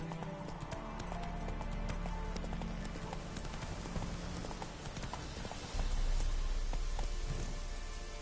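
Hooves of Roach, Geralt's horse in The Witcher 3 video game, clip-clop in a steady trotting rhythm with a soft patter of rain behind them, and the hoofbeats turn heavier and louder toward the end.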